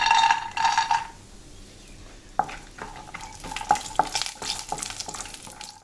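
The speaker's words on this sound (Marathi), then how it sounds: "आता आपण तेल घालूया रवा भाजताना आपल्याला तूप नाही घालायचं आहे काजू आणि शेंगदाणे थोडे ग फ्राय करून घेऊया" Cashews and peanuts frying in hot oil for rava upma, a bright sizzle at first, then quieter frying with a series of sharp spoon taps and scrapes against the pan, close-up.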